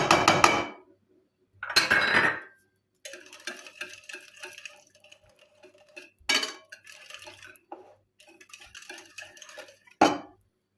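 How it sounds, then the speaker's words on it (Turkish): Börek batter made with stale bread is whisked in a bowl, with bursts of utensil scraping and clinking against the bowl between quiet gaps, fairly close and with no talking. "Bunları karıştırıyorum."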